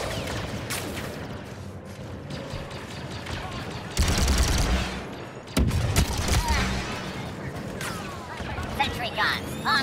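Sustained gunfire from a Star Wars Battlefront 2 battle, with dense overlapping shots and bursts and loud blasts near four and five and a half seconds, set against a synthetic announcer voice over combat noise.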